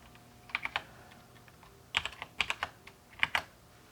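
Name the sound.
typing on a computer keyboard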